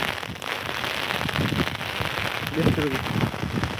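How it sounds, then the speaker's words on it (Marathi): Heavy rain pours down outdoors in a steady close wash of drops, with a voice faintly underneath. "बघा इथून पाऊस आला"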